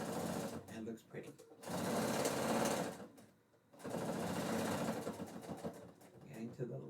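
A sewing machine quilting through fabric and batting runs in two long, steady buzzing stretches separated by a short pause, close and loud, with a voice talking over it.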